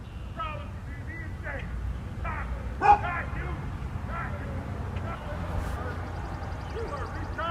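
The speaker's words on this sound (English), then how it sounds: "I guess maybe he didn't like how his dog was barking at him" A dog barks in a store parking lot, a few sharp bow-wow barks and yips at a distance over steady outdoor background noise, with one louder bark standing out.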